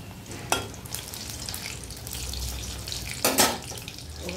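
Taro stolons dropped into a hot frying pan with oil, giving a steady close sizzle and two sharper bursts of crackling as the pieces hit and get stirred.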